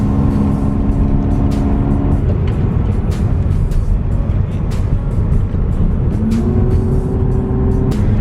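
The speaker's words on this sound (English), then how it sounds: "my car struggles a little bit up these hills" A 1998 Toyota Camry labours uphill, its engine droning with a sustained whine that drops and climbs again between gear changes, steady road rumble underneath and no talking.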